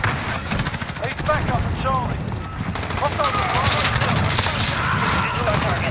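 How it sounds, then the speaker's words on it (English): Rapid automatic gunfire in Call of Duty: Modern Warfare multiplayer, sustained bursts of close shots with some booms, while a player talks over the shooting. "Who is shooting?"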